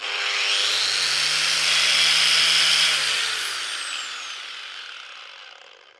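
A power angle grinder spins up with a soft start, its whine rising to a high steady pitch for a couple of seconds, then winding down gradually as it coasts to a stop, loud and close with no talking.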